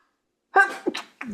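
A single sharp sneeze up close, a quick breathy intake followed by a burst and a short trailing exhale.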